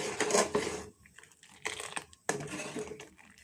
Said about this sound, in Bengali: মিশিয়ে নিচ্ছি।